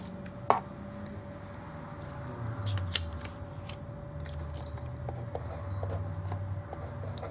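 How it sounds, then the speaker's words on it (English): A paper trimmer slices a sheet of craft card on the diagonal, giving a single crisp cutting snap early on, then a quiet room with faint shuffling and rustling of card. "So into the trimmer, on the diagonal, and cut."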